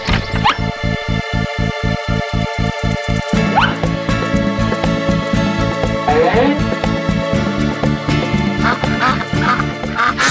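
Repeated honking quacks of a cartoon goose in an animated children's story, loud and close over a rhythmic, pulsing music backing.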